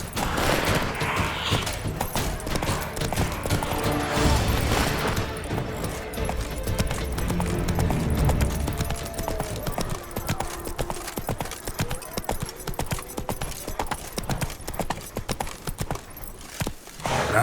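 Geralt's horse Roach gallops in The Witcher 3: Blood and Wine, with loud, rapid hoofbeats pounding steadily and close by throughout, mixed with ambient game sounds.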